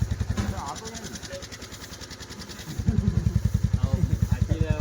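Motorcycle engine running close by, its low pulsing throb rising in two revved bursts, with people talking over it at a village wedding celebration.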